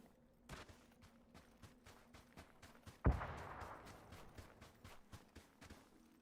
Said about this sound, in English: This explosion sounded like it took place at the buildings.